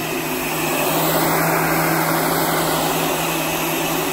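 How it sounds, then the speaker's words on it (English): Heat gun warming the paint on a car fender, a loud continuous blowing roar with a steady motor hum, unbroken for the whole few seconds with no talking. "That's why I have my trusty heat gun."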